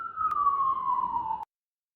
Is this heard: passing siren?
yes